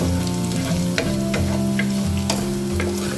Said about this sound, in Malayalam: ഇതിലേക്ക് 1 ടേബിൾ സ്പൂൺ ഇഞ്ചി ചെറുതായിട്ട് അരിഞ്ഞത് ഇട്ട് കൊടുക്കുക. മിക്സ് ചെയ്ത് കൊടുക്കാം.